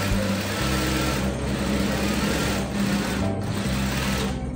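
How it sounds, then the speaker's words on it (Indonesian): A sewing machine stitches along the top edge of a piece of fabric, running steadily and close with a continuous mechanical whir and low motor hum for the whole stretch, no voices over it. "Di bagian atas kita jahit."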